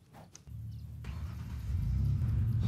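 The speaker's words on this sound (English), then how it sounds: "This guy pulled a Mario and tried putting the car down the stairs" A car in the video game Apocalypse Rising 2 starts up and drives off, its engine rumble rising and revving steadily louder after a brief quiet start.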